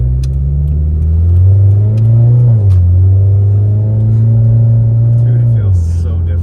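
An LS V8 engine swapped into a Toyota FRS rumbles loud and close from inside the car as it accelerates. The revs rise and drop through gear changes, and people talk over the deep engine drone.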